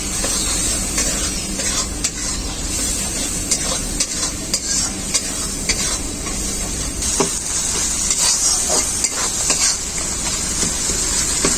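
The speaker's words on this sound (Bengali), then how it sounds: "এখানে আছে সাদা সরষে কালো সরষে আর আদা বাটা একসাথে দিয়ে দেব খুব ভালো করে মশলাটাকে কষিয়ে নেব" White and black mustard with ginger paste fry together in a pan while being stirred, a dense, constant loud sizzle with frequent scraping and tapping of the spatula throughout.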